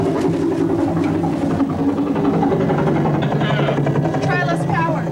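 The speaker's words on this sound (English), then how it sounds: "The helicopter stack, being tried by a group outside senior Juanito Villanueva's room" A small helicopter flown by students outside a dormitory room during a campus Ditch Day stunt buzzes with a steady motor drone, close and continuous, while people talk over it.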